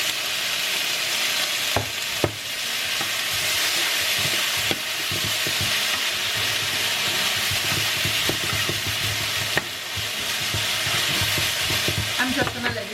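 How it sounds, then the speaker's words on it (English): Cabbage and salt fish sautéing Jamaican style in a pan give a steady, close sizzle throughout, broken by occasional clacks and scrapes of a spoon stirring the mixture, with no talk. "I'm just going to let this saute a little bit to bring out all the flavor from it."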